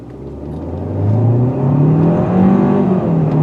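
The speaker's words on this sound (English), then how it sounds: "Let's drop it in the sport mode and do a 0 to 60 run." A 2020 Hyundai Sonata in sport mode launching from a standstill toward 60 mph, engine note climbing smoothly in pitch through the run with a brief dip at a gear change, then rising again, close and clear.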